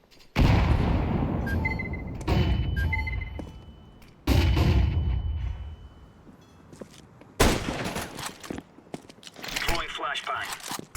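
A grenade is thrown and explodes in a video game, amid several heavy, booming blasts that hit hard and roll off over a few seconds each, loud and close, with a faint whistling tone in between.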